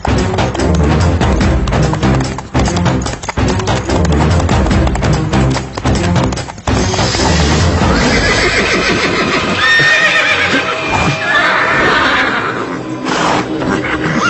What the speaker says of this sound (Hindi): ना जाने इस घोड़े को क्या हो गया है।